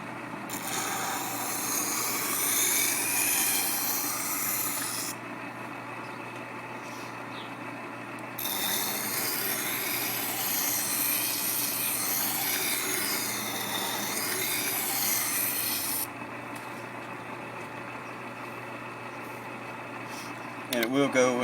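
A Craftsman utility sharpener grinds a knife blade in a rasping, scraping mechanical run with a motor hum underneath. The grinding comes in two long bursts separated by quieter gaps, and a person talks during the clip.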